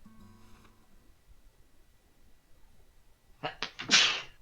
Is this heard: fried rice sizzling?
no